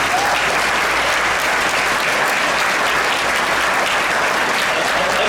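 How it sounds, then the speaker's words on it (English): A banquet audience claps steadily for several seconds at an awards dinner, dense sustained applause filling the room with no break. "Can we give these guys a round of applause, the ones that paved the way for us veterans?"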